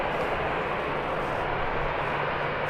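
A jet airliner departing Birmingham Airport gives a steady, broad engine roar, moderately loud and constant throughout, with no talk.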